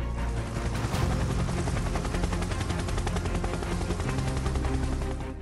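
Rotor noise from a helicopter flying low over fields to round up blackbuck and nilgai, a dense continuous throbbing chop that stays loud and close throughout with no voices.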